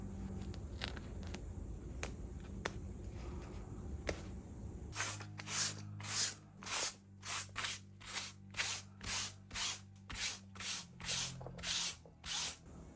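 Repeated rhythmic scratchy strokes of sanding fabric, about a dozen in a steady back-and-forth pattern, close up, following a quieter stretch of rubbing.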